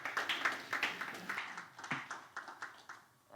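Scattered, fairly distant hand clapping from a conference audience at a real estate event in Abuja, sharp individual claps in loose rhythm that thin out and fade toward the end.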